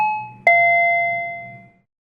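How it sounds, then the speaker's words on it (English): A doorbell sound effect from a digital sound library gives a clean two-tone ding-dong: one chime, then a brighter second strike that rings out and fades over about a second, alone with nothing else heard. "Under Interior, open Bell, and there is our doorbell."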